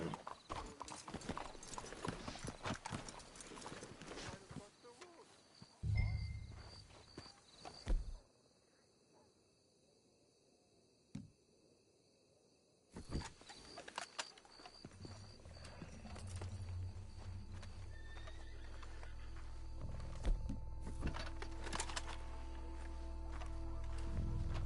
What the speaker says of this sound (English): Let's hitch your horses up ahead.